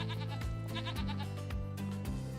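Goats bleating at a goat yoga studio in Farming Simulator 25, several repeated bleats pulsing over a steady background of game music and ambience, moderately faint.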